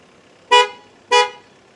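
A 2022 BMW X1's horn gives two short, sharp toots about half a second apart as its owner walks away with the key while the engine is still running.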